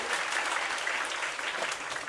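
Steady applause and cheering from an audience at a school annual day celebration, a dense continuous wash of clapping that holds at even loudness throughout.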